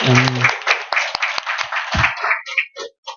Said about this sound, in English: we'd like to give applause to three of you first